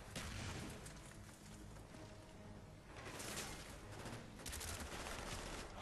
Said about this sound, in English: It's like a short AK.